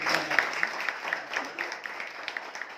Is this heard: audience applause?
yes